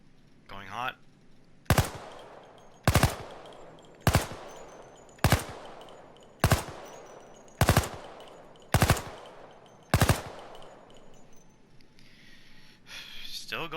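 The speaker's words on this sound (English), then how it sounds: "Let's actually test the gun out." Skorpion (Cobra) submachine gun firing in the Payday 2 video game, eight short sharp bursts spaced about a second apart, loud and close with brief quiet gaps between them.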